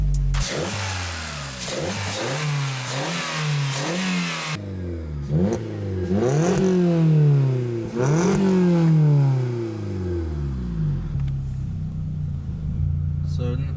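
A 1.6-litre, 16-valve, non-turbocharged car engine making 115 horsepower revs up repeatedly, its pitch climbing in loud, close sweeps before settling back to a steady idle.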